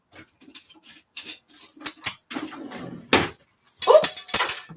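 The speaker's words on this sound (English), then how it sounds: "Oops. My spoon fell." A metal spoon drops in a home kitchen, giving a sharp clatter and ringing clink near the end, after quieter scattered handling sounds and light clinks; no voices.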